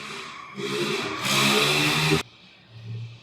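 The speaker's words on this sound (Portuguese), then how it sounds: "Gêmeos, vocês me desculpem por esse barulho de moto" A motorcycle engine roars past close by, swelling loudly for a couple of seconds and then cutting away abruptly to quieter background noise.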